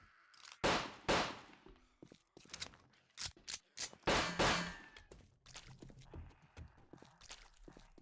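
Firearm gunshots in the video game 7 Days to Die: a string of sharp, clanging cracks, several close and loud early on, then fainter, more scattered hits, with no voices.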